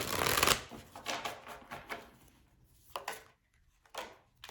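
A deck of tarot cards is shuffled up close, a loud riffling burst followed by several softer rhythmic shuffling swishes with short gaps in a quiet room.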